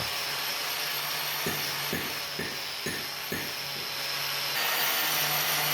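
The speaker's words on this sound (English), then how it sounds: "You need to firmly hold the grinder." An angle grinder fitted with a wire brush works over a copper ingot, giving a steady high-pitched whir and rasp with a few brief knocks as the brush meets the metal. It stays close and loud throughout, with no voices.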